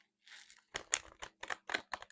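Tarot cards are shuffled up close in a quiet room, a short burst of riffling followed by several quick, crisp slaps and flicks in an uneven rhythm, with no talking.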